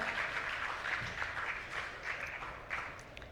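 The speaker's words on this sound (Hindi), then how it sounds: "प्रोफेसर सत्येंद्र तिवारी सर के लिए भी जोरदार तालियां होनी चाहिए" Faint, distant applause from an audience honouring a professor at an academic event, a soft continuous patter of many hands with a few louder swells.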